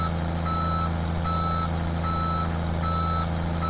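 A utility bucket truck in the Farming Simulator 17 video game backs up, its reversing alarm beeping at a steady rhythm of five evenly spaced beeps over a constant low diesel engine drone.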